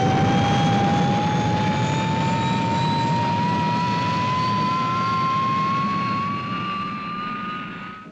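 The Fireball XL5 spacecraft's motors fire at full power, a loud, continuous jet-like roar with a steadily rising whine that holds for several seconds before easing off slightly at the end.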